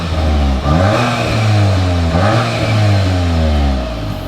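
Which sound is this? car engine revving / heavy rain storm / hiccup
car engine revving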